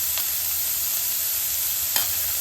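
Chopped onion, capsicum, beans and carrot sauté in a pan for masala egg Maggi. A soft, steady sizzle with faint stirring carries through, plus a couple of brief utensil clicks.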